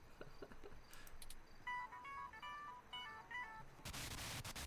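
A short electronic ringtone melody plays in the video game 2064: Read Only Memories, a run of bright beeping tones in the middle of the clip, with clicks before it and a burst of noise at the end.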